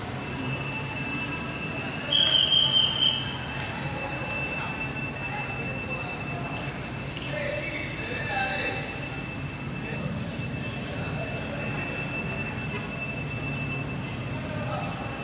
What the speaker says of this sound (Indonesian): Pertanda kereta cepat akan diberangkatkan dari stasiun Baralarang menuju stasiun Tegaluar Bandung.